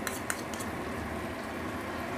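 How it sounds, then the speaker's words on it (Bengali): Tomato paste going into spiced oil in a pan on the stove for egg kali mirch: a faint, steady frying sizzle with soft stirring and a couple of light utensil taps, close and quiet. "এই টমেটো বাটাটাকে পুরোটা দিয়ে দিচ্ছি"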